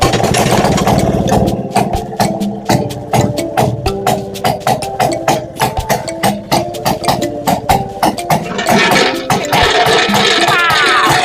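A Maytag Model 92 gasoline-powered washing machine engine runs steadily, its small single-cylinder motor putting out a rapid, rhythmic popping chug that stays loud and close throughout, with no talking over it.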